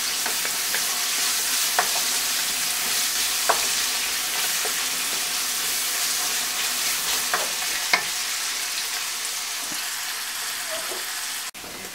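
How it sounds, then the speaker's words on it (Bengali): Onion and garlic frying in a pan until golden brown for a Bengali-style shrimp and bok choy dish, a steady close sizzle broken by a few sharp stirring clicks and scrapes, with no talking. "পেঁয়াজ রসুনটা অলমোস্ট গোল্ডেন ব্রাউন হয়ে গিয়েছে"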